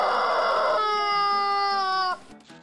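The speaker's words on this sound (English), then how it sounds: "I can flip it over and make really, like, loud chicken noises" Loud, sustained squawking chicken cry from a chicken held upside down in the game Half-Payne, one long strained tonal call that breaks off abruptly, followed by a brief quieter sound.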